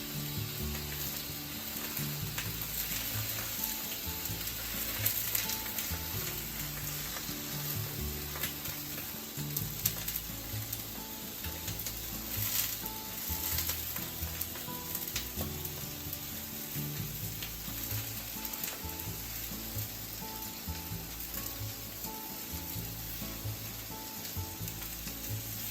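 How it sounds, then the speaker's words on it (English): Tofu pieces frying in a pan over medium-high to high heat, a steady close crackling sizzle of hot oil lasting throughout, with a low rhythmic hum underneath. "Just cook them over medium-high to high heat until you get nice burn on both sides."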